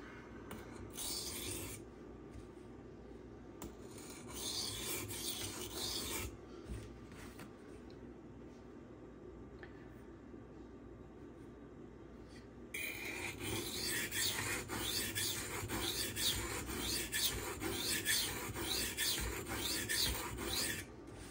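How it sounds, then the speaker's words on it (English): Steady rasping strokes of a Spyderco Manix folding knife with a CPM 15V steel blade being sharpened on a stone at a low angle, continuous close scraping that grows louder and denser partway through, with no talking. "I was sharpening at a lower angle than where he had it."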